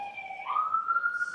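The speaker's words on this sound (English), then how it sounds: "Hold on, wait for the ambulance" An ambulance siren passes outside a courtroom, a steady, fairly loud wail that climbs in pitch partway through and holds high, heard alone without talk.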